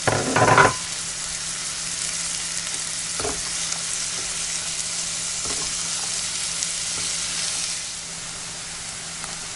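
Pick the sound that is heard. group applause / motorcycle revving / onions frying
onions frying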